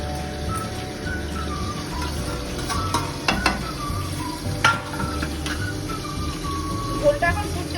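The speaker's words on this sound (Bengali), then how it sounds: "মাছ ভাজা হচ্ছে পাশের কড়াইতে।" Fish fry in a wok beside a simmering curry, giving a steady sizzle with occasional clinks and scrapes from stirring.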